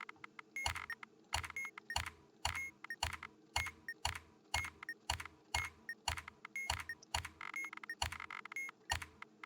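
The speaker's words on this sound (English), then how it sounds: "you can actually use your keyboard as well to type the letters in, rather than using the on-screen keyboard" Letters being typed on a computer keyboard during a puzzle game, in quick, crisp clacks of keys that come in an irregular run of near, distinct taps against a faint electronic background tone, with no talk.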